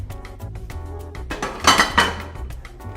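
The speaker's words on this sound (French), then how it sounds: "je mets la casserole, en réalité le poêle, dans le tiroir à casserole" A frying pan goes into the kitchen pan drawer. Several metallic clinks and knocks sound close by, with a louder clatter of cookware in the middle.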